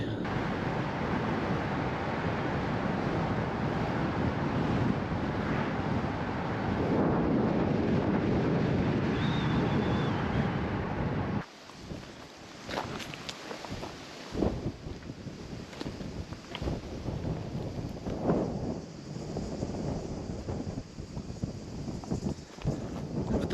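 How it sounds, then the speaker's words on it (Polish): Gusty wind buffets the microphone outdoors on a windy day in Croatia, loud and steady for the first half, then dropping to lighter, fluttering gusts with scattered bumps and rustles. "wietrzna pogoda"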